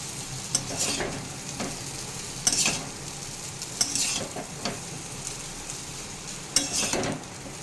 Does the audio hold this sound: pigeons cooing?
no